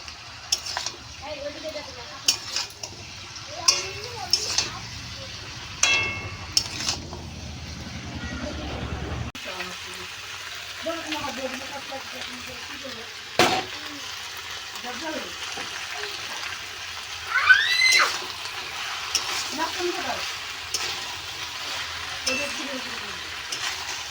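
Fish head and cabbage curry is stirred in a pan with intermittent scraping and clinking of a utensil against metal, soft bubbling underneath, and muffled voices nearby now and then.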